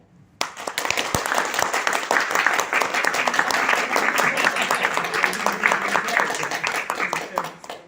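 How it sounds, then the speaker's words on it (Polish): Crime-fiction fans in the audience of a crime vs. thriller debate at the Kraków International Book Fair applaud, a dense, steady crackle of many hands that lasts several seconds before tapering off, with voices briefly audible alongside. "W tym momencie klaskają tylko te osoby, które są po stronie kryminału."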